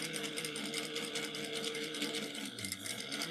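A sewing machine back stitching two to three times over one area of a Sallie Tomato pattern, a close, continuous rapid whir with slight shifts in pace.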